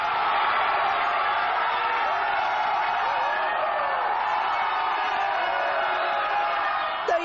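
French football fans roar in a packed stadium after a goal, a dense, sustained crowd cheer filling the whole stretch at steady loudness, with faint shouts within it.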